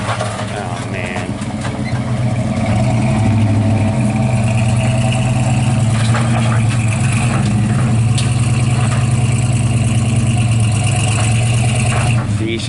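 A 1983 Chevy 4x4 truck engine runs in low gear, a steady rumbling drone with a slight rise as it pulls, heard close with people talking over it.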